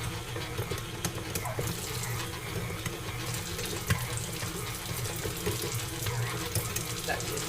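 Water pours steadily from a kitchen tap into a mixer kneading pasta dough on low speed, a continuous splashing hiss with no breaks and faint clatter underneath.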